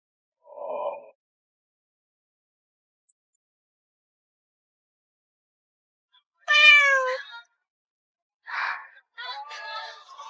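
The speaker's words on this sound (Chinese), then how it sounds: "这只小猫我要了。" A kitten meows in a few short, high, clear calls, one faint at the start and a couple near the end, separated by long quiet gaps.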